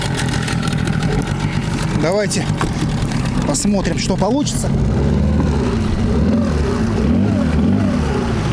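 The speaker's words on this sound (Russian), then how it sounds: "После Ямахи 15, конечно, мотор ревет." Outboard motor with a standard 8.5-pitch propeller on a Flagman 380 Igla boat on the water, revving as a loud, steady drone throughout while someone talks over it.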